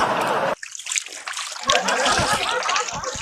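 Water splashes and sloshes as someone bathes in the Ganga river, with irregular close splashes and trickles following a brief pause in the surrounding noise.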